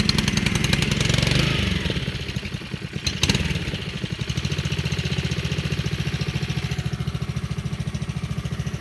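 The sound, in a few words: Honda engine idling after a cold start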